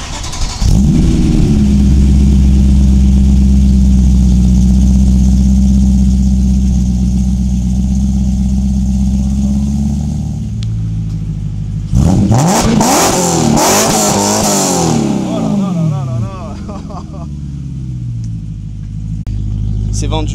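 A BMW M3 E92 engine holds a deep, loud idle for several seconds, then snaps into a few sharp revs that rise and fall before settling back to idle, with voices speaking nearby.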